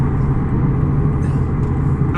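A 2021 Toyota GR Supra with its 3.0L turbo engine rumbles steadily nearby, a short, loud, continuous low exhaust drone with no break.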